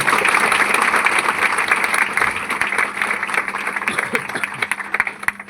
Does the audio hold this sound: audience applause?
yes